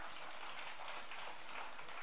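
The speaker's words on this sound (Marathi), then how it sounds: "पटत असेल तर जोरदार टाळ्या." An audience at a comedy show claps together, a short, steady wash of applause heard at some distance.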